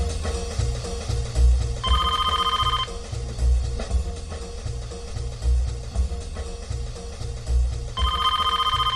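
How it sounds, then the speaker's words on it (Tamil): A telephone rings twice in short bursts of repeated electronic trills, separated by a long gap, over a steady low background pulse. "ஃபோன் அடிக்கிற சத்தம் உனக்கு கேட்கலையா?"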